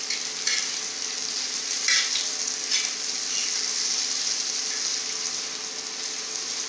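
Okra with salt fries on an iron tawa, giving a steady soft sizzle with a few light scraping stirs near the start.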